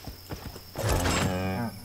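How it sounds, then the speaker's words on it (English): A cow moos in the video game Albion Online, a loud drawn-out low call following a few soft thuds, close and alone. "Moo"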